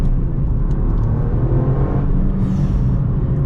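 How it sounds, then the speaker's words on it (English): A Toyota GR Yaris engine whirs steadily from inside the cabin while driving behind a truck, a continuous low rumble with a light high whine that rises briefly near the end. "And it's of such a whirry little noise."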